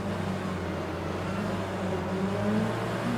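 Simulated BTCC touring car engines at a race start in rFactor 2, a steady droning engine hum with slowly rising tones, moderately loud and without talk.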